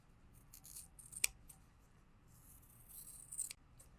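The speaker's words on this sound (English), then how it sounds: "I'm just going to do a quick trim on the fabric here" Scissors snip through excess fabric while a sewing machine caddy is being made, with one sharp cut and a second brief rasp of blades, fairly faint over a quiet room.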